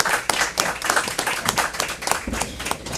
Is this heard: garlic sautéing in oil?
no